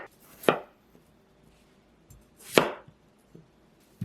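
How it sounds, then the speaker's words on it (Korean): Knife chopping peeled potatoes on a board, cutting halves into quarters, with three distinct sharp thuds spaced about two seconds apart in a quiet kitchen. "껍질 깐 감자는 반으로 자른 후 다시 4등분으로 잘라 삶아줄 거예요"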